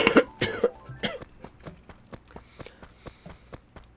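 A person coughs hard several times, then lighter coughs and throat-clearing follow in a steady, fading rhythm, close and with no speech.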